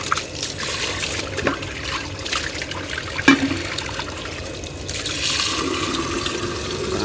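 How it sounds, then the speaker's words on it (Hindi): Water from a newly started household electric pump motor runs and splashes steadily into a container, with a continuous trickling rush, a brief clatter midway and a brighter surge near the end. "मोटर हमारी चल गई है, अभी पानी भरते हैं"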